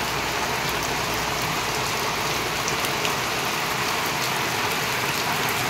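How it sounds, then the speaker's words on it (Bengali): Steady midday rain falls in a continuous, even hiss, close and moderately loud, with no voices and no breaks. "দেখো বন্ধুরা, দুপুর হতে না হতেই কেমন বৃষ্টি নামলো। সেই বৃষ্টি শুরু হয়ে গেছে।"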